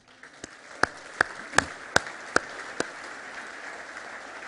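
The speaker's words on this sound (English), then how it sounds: "He deserves a great round of applause for that accomplishment" Guests at a presidential gala dinner applaud. A few loud, separate claps ring out close by at an even beat over a soft wash of quieter clapping, and the claps fade out toward the end.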